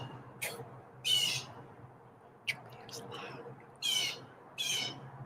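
Loud bird chirps and squawks come in short bursts, around five calls over a few seconds, standing out sharply against a low background hum.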